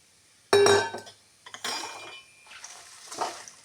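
Black pepper tipped into a pan while making homemade rasam and sambar spice powder, a sharp rattling clatter followed by softer scraping and shuffling of dry spice against metal, close and alone.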